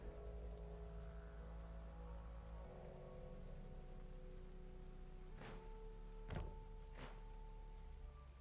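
Rain in the video game Weird West, a steady close wash of falling rain with a low rumble beneath and several sharp crackling bursts near the end.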